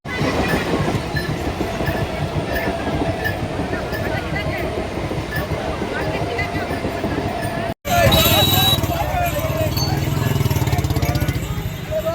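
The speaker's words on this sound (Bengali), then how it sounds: "গেট পড়েছে, এখানে ট্রেন আসছে" A train rumbles past nearby at a level crossing in Tarakeswar with a steady, dense clatter, then the sound shifts after a brief cut to louder rolling noise with faint voices.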